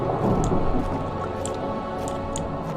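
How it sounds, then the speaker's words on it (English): Rain pours steadily with a low rumble of thunder in the game Amnesia: The Dark Descent, a dense, continuous storm wash filling the space with no voices. "It's turning dark and stormy."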